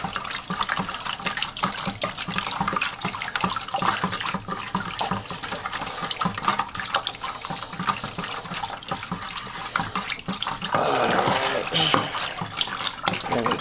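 Hot water pours steadily into a plastic wine-kit fermenter for dissolving bentonite clay, a constant rushing splash that swells slightly near the end, with someone talking over it.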